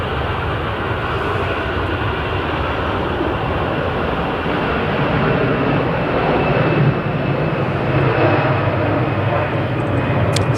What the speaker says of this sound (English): So that's the EasyJet A320 to Antalya.